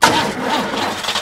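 A cartoon car's engine cranks and catches in a Peppa Pig episode, a loud, brief sputtering mechanical burst up close that fills the short moment.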